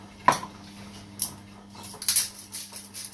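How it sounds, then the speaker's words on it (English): Chopped carrots and onions tumble into a pot for beef stew, a few sharp clattering knocks and soft pattering scrapes against the metal, close and otherwise quiet. "we will then put in the carrots, followed by the onions"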